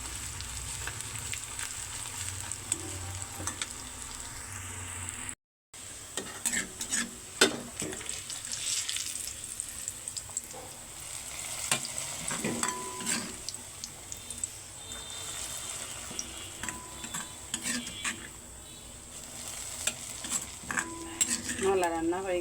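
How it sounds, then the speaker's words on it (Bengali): Onions frying in a pan for tempering, a steady soft sizzle with occasional stirring clinks and scrapes of a utensil against the pan, close by and fairly quiet. "বাগারের জন্য পেঁয়াজ বেরেস্তা করতেছি।"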